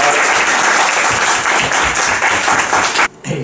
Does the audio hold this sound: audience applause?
yes